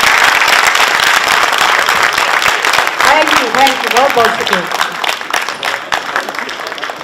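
Audience applause for the actors after a Hindi-Urdu drama staging at the Ghalib Institute in New Delhi, a dense steady clapping from a full hall that thins toward the end, with someone speaking his thanks over it.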